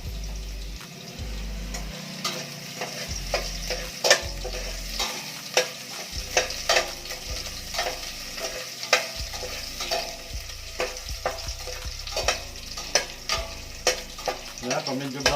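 Garlic frying in a pan while a utensil scrapes and stirs it, a constant sizzle broken by repeated sharp clicks and scrapes of the spatula against the pan, close and steady.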